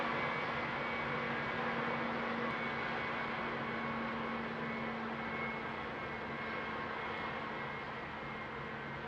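Jet airliner engines roaring through a takeoff roll in a flight simulator game, a steady, loud, dense rumble with a faint whine on top that holds for the whole stretch with no voices.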